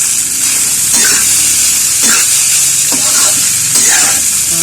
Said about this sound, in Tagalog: Gisa-gisa mo yan.